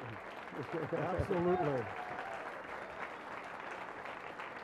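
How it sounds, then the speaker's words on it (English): Audience applause at a live discussion event with two guests, a steady broadband clapping wash that runs through the whole moment beneath a voice speaking over it. "Let everyone watching on the internet note the applause."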